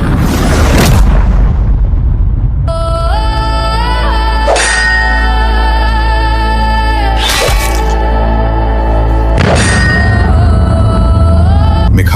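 Three heavy booming explosion effects hit at intervals in a dramatized story of Lucifer's rebellion in heaven, each a loud cracking blast over sustained droning music, very loud and full throughout.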